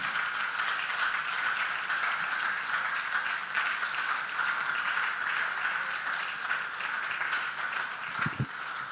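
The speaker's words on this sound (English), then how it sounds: "Keep clapping, keep clapping." Applause from a lecture audience at a health systems scientific roundtable, a steady wash of clapping held at an even level for the whole stretch, with a prominent tonal hum running through it.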